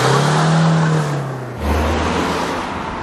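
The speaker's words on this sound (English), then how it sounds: "I bought an Audi A1 2-litre TDI." Audi A1 hatchback with a 2-litre TDI diesel engine, running close and loud, a steady engine drone that drops in pitch partway through and then settles into a lower hum.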